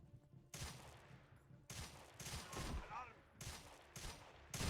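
Rapid bursts of pistol fire in a video game, several loud broadband shots and short volleys spread across the clip, with a voice speaking over parts of it.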